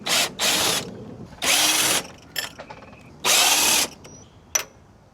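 A cordless drill fitted with a 10mm socket spins out bolts while removing the bumper and grille on a Lexus GX460, giving three loud close whirring bursts of about half a second to a second each, with faint ratchety clicks between.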